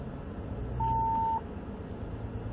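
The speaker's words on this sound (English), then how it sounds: "What was that beep?" A single steady electronic beep, held for about half a second, sounds inside a Ford Raptor truck as its four-wheel-drive lock engages, over a low engine rumble during a rock climb.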